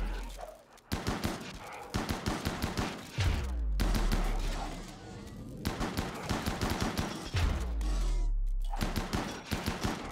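Repeated bursts of automatic gunfire from the RimWorld video game crackle in fast volleys, with several deep booming impacts between them, loud and continuous.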